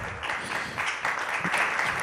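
Applause from a conference audience welcoming round-table guests, a steady, even patter of many hands clapping for two seconds with no talk over it.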